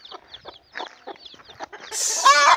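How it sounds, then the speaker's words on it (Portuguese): A hen confronting a pig clucks in sharp, agitated bursts, close and clear, then breaks into a louder, harsh squawk at the end. "Galinha valente, rapaz."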